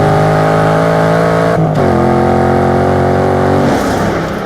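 A 2015 Chevrolet Camaro Z28 engine drones loud and close under acceleration, its throaty tone holding steady, dipping briefly at a gear change and then pulling on again.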